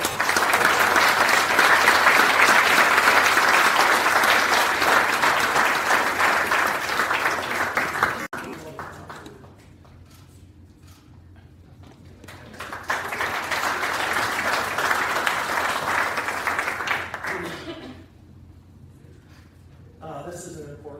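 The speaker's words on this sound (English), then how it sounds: "Let's give a round of applause to Braden Clark" Applause from the audience at a university sports awards ceremony honors a graduate student athlete, a loud, sustained burst of clapping that fades, then a second wave rises and dies away, with a voice speaking in the quieter gaps.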